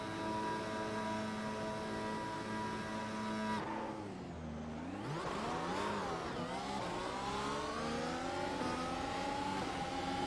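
A Formula 1 car in the iRacing sim fires up and revs, a steady engine drone broken by a sharp dip and then rising, climbing pitch sweeps as it pulls away, loud and continuous throughout.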